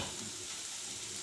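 Frying in oil on a low flame for mint chutney, a soft, steady sizzle, faint and continuous for about a second, with no voices.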